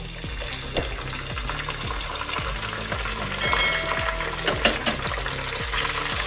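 Tomatoes frying and being stirred in a pot for vegetable pulao, a steady sizzle with repeated rhythmic scraping strokes of a spoon, close and moderately loud.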